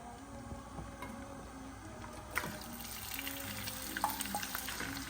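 Spicy sausage sizzles and crackles in hot oil in a pan, a steady close frying hiss with a few sharper pops and spatters, no voices.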